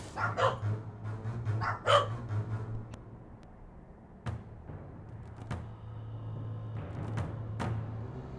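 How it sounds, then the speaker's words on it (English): Several dogs bark in bursts early on, loud and close, then sparser single barks follow over a steady low hum, with no talking. "And the dogs are barking."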